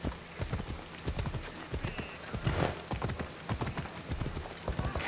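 Rapid clip-clop of horse hooves in a steady galloping rhythm in the video game Assassin's Creed Odyssey, fairly close, with a faint voice briefly under it.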